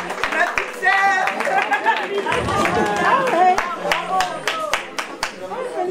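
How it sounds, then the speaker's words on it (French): An audience at a Miss Africa hair and fashion contest in Auxerre, France, claps in scattered bursts over a steady buzz of voices and a microphone voice talking throughout. "Il faut vraiment l'applaudir."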